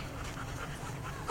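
A dog pants steadily at close range during a training session, with quick, breathy, rhythmic huffs over a continuous noisy background.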